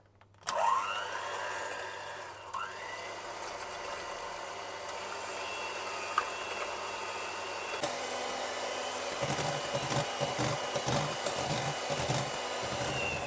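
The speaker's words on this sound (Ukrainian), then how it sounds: "Буду взбивати білки. Ванільний цукор один. Так. І взбиваємо." A kitchen mixer whips egg whites with vanilla sugar, whirring continuously at close range, its motor tone steady and then growing rougher and busier near the end; no one speaks.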